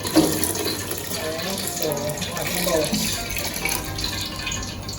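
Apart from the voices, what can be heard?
washing rice under running tap water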